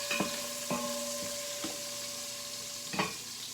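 Onions fry in a pan with a constant close sizzle, broken by a few sharp scrapes and knocks of a utensil stirring them at irregular intervals.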